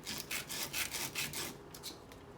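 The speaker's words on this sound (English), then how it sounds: "go over to a sanding board or to some sandpaper and just kind of barely put pressure" Soldered silver overlay ring piece rubbed face down across sandpaper under light pressure, a series of close, soft rasping strokes in a steady back-and-forth rhythm, then quieter scrapes near the end.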